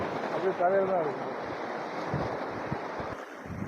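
Sea waves wash in at a small island shore called MGR Thittu, a steady surging rush with wind buffeting the microphone, close and fairly loud throughout.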